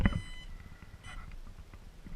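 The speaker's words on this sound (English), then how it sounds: "it'll beep at you, and it'll still beep at you after you turn the brake on" Two short electronic parking brake warning beeps from a Versatile tractor sound about a second apart over a low engine rumble.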